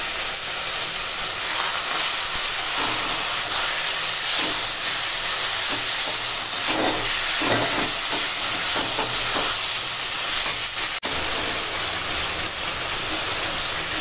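Water poured onto hot Kashmiri chili powder, hot chili powder and turmeric in a cooking pan, setting off a loud, constant hissing sizzle with bursts of steam that runs without pause.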